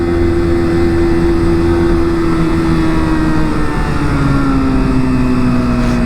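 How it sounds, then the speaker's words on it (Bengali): A car engine drones steadily and loudly while driving through a road tunnel in mountainous North Sikkim, its pitch slowly rising as the car keeps moving, with no talking. "খালি কি এই গাড়ির সাউন্ডটা কম,"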